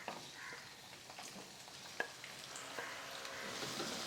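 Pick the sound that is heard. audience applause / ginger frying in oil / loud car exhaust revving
ginger frying in oil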